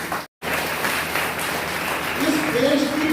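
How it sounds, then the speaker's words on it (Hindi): An audience at a business talk breaks into a dense, sustained wash of clapping after a brief silence, with someone speaking over the applause. "एक जोरदार तालियां इसके लिए।"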